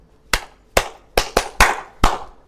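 Six sharp, evenly spaced claps ring out close and loud in a quiet room, a short rhythmic applause sequence at an official youth and climate bootcamp opening ceremony.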